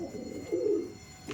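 Low, throaty cooing from a closed-tail tournament pigeon at a pigeon keeper's loft, one sustained rolling coo swelling in the middle and easing off, fairly close with no talking over it.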